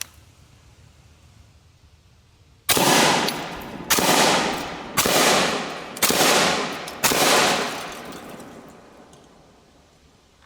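Five sharp, loud rifle shots from an IWI Tavor X95 at targets, spaced about a second apart, each with a ringing decay, in an otherwise quiet outdoor setting with no talking.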